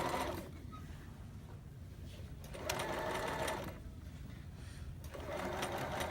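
A sewing machine runs steadily, understitching a garment's seam allowance to its facing, with the whir swelling louder in three short bursts before easing back.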